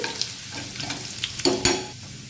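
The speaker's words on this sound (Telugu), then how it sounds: "పోపు అయితే బాగా వేగింది కదా" Onions and spice tempering sizzle in a hot pan at close range while a utensil stirs and scrapes, with a couple of sharper crackles midway.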